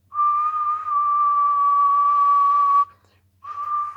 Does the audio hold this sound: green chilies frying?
no